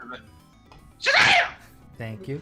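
A single loud sneeze bursts out in the middle, bracketed by speech before and after during a casual retro gaming chat.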